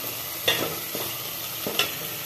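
Tomato, spices and turmeric frying in oil, a constant close sizzle broken by a few sharp scrapes of stirring against the pan.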